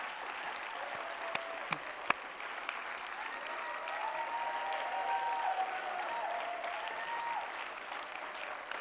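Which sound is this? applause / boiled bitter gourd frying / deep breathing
applause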